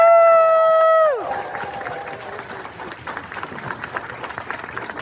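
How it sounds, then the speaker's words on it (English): Crowd at a convention closing ceremony cheering and clapping after a loud sustained tone cuts off; steady mid-distance applause and whoops fill the rest. "Can I get a cheer for the AV team?"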